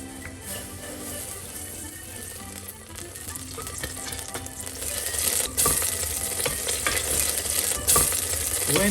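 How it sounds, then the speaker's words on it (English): Extra virgin olive oil crackles and sizzles steadily in a cooking pot, a continuous close frying hiss with light stirring scrapes that grows a little louder toward the end. "When the oil is boiling,"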